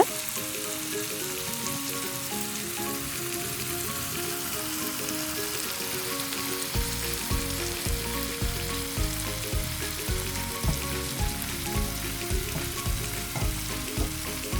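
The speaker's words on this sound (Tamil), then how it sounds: "இறால் இப்போ பொரிஞ்சு வந்துட்டுது." Prawns sizzling and crackling steadily in hot oil, a continuous close frying hiss with a rhythmic pulsing pattern, no talking.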